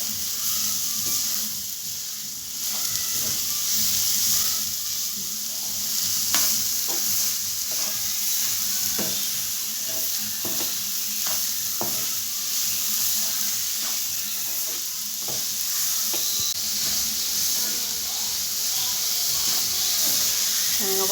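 Ghee sizzling steadily in a pan while a coconut laddu mixture is stirred and fried, a continuous close hiss with scraping stir strokes throughout, no talking.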